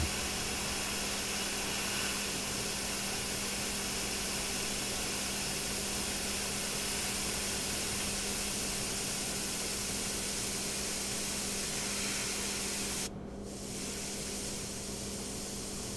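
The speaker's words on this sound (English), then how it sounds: "we're going to put some details, micro airbrush details" A micro airbrush sprays paint details in a continuous loud airy hiss that holds steady for the whole stretch, with only a brief dip near the end.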